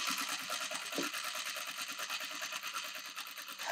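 A sewing machine stitches wool felt for a coffee sleeve, running in a steady fast rhythmic patter of needle strokes, close and fairly quiet, with no voices.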